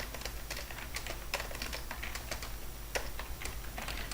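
Steady, soft clicking of typing on a computer keyboard, with quick irregular keystrokes continuing throughout over a faint constant background hum.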